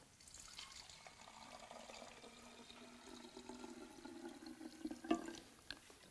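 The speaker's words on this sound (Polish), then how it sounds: "Odkręcamy i wlewamy wodę, czystą wodę z kranu, mniej więcej pół litra." Tap water is poured into the clean-water tank of a Philipiak Milano 3-in-1 vacuum cleaner, a soft steady trickle and splash that rises slightly as the tank fills, with a small knock near the end.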